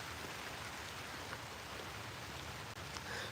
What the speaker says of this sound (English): the rain is starting to pick up